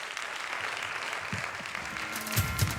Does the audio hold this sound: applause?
yes